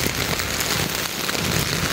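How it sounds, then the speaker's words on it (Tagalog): Heavy rain in cold weather of about 3 degrees, a dense, loud, continuous downpour hiss close by with no talk. "Sobrang ulan guys."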